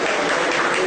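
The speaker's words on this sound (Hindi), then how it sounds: "प्रधानमंत्री तालियों से बधाइयां देते हुए" Applause for the ISRO Mars Orbiter Mission success, with the Prime Minister among those clapping; a dense, steady wash of many hands clapping together, loud and continuous with no voices standing out.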